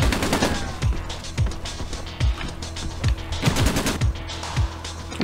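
Gunfire in the video game Breakdown comes as loud, close, rapid bursts of shots with sharp repeated cracks and short pauses between volleys.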